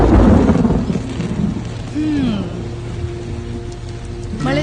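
Rain beginning to fall along a ride near Nagarahole Tiger Reserve toward Kakkabe, a steady broadband hiss of drops under loud wind and road rumble, with a brief voice at the start.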